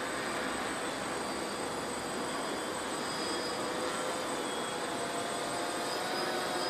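A DJI Phantom drone hovers and flies at night, its rotors making a steady, faint, high-pitched whirring drone that stays constant throughout with no talk.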